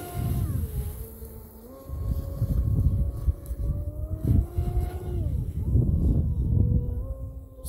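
A 37-inch Hobbyking Inception RC boat on 6S, driven by a big outrunner motor through a 150 amp ESC, runs at full throttle. Its motor whine rises and falls in pitch over a steady rumble, fairly loud and close throughout.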